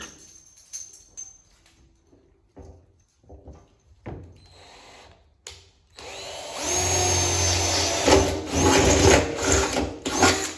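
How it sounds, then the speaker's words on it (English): A power drill with a small bit whirs in short bursts, then runs steadily and loudly for several seconds as it bores a pilot hole, with a few brief pauses in the motor. "I like to pre-drill it with a smaller bit."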